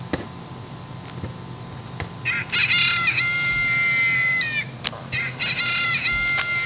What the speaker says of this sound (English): Delaware blue hen